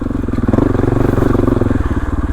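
A motorcycle engine idles on a mountain ride, running loud and close with a steady, fast pulsing throb and a slight mechanical clatter.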